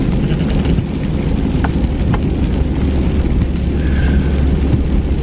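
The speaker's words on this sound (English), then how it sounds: "It is pouring down rain right now." Steady, heavy rain pours down without a break on a wet November day, a dense low roar with a few brief louder spatters, close and constant throughout with no voices.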